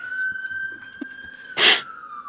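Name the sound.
emergency vehicle siren passing outside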